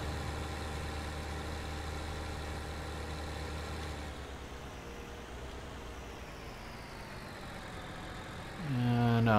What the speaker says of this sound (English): Oops, I left the other tractor running too, didn't I?